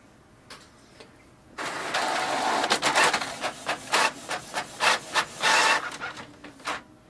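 Canon Pixma TS706 inkjet printer printing a page: a steady mechanical whir starts after a short quiet stretch, then a series of rhythmic rubbing and clicking pulses as paper feeds through, close and fairly loud.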